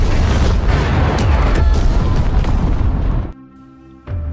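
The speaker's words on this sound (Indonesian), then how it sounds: "Namun ledakan rudal mengenai Mike hingga membuat ia tak sadarkan diri." A film missile explosion: a loud, rumbling blast roars for about three seconds, then cuts to a quieter tonal hum before another burst starts.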